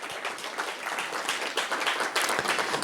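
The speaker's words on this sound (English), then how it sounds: "Another round of applause" A panel discussion audience applauds close by, the claps individually audible in a brisk, moderately loud burst that holds steady for a few seconds.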